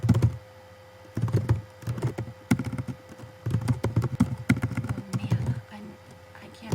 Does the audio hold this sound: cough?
no